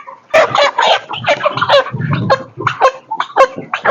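Chickens on a village poultry farm cluck and squawk continuously at close range, a dense overlapping chorus of many birds with occasional louder calls.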